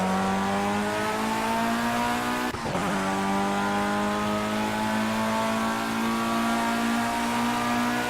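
A Formula One car in the racing game Project CARS holds a loud, steady high-pitched engine whine with layered harmonics throughout, briefly broken by a sharp gear-shift or bump blip partway through; no one speaks.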